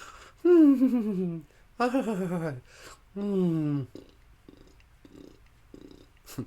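A person imitates a cat purring with their voice while massaging their own back, producing three drawn-out, fluttering vocal rumbles close to the mic, followed by quieter breathy sounds.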